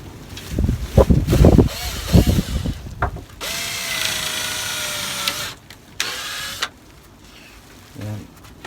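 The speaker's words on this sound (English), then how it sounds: "I'm going to drill the pilot holes just like I did with my bench build." Bursts of handling noise and knocks give way to a steady whining power drill drilling pilot holes for a couple of seconds, then a second shorter drilling run.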